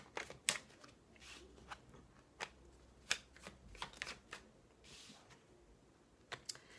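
Tarot cards shuffled by hand at close range, a series of crisp riffles and snapping flicks spaced irregularly, with faint table taps and no talking.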